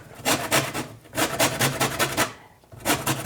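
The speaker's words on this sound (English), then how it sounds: "I'm using the fine grate of the box grater, not the wide grate option there" An organic lemon being zested on the fine side of a box grater: rhythmic, raspy scraping strokes in bursts, close and moderately loud, with brief pauses between runs.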